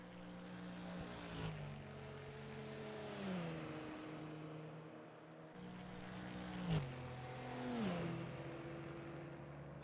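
Racing game cars at Road America, their engine tones rising and sweeping in pitch as they pass in two waves, with a steady buzzing drone throughout and no talk.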